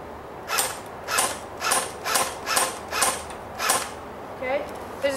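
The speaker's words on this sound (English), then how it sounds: "Alright, so here is the gun firing. I'm going to start out on semi-auto" An AK-47-style airsoft gun fires on semi-auto, with about eight sharp, evenly spaced shots roughly half a second apart, close and clear with no talking.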